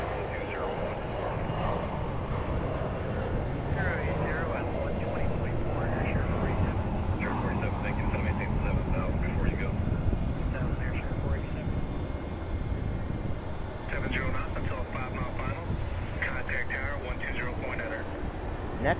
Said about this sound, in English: It's a 21-year-old aircraft, ERJ-135 extended range.